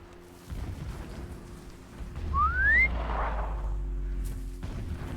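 A character in the video game Horizon Zero Dawn whistles up high: a single short, rising whistle rings out clearly over a low ambient rumble.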